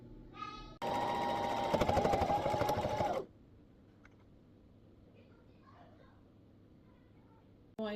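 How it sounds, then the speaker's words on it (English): A sewing machine stitches fabric strips in a loud, fast, steady whir lasting about two and a half seconds, followed by quiet room noise and a faint voice. "After that, I'm going to sew the bottom of the strips, just straight across that line basically."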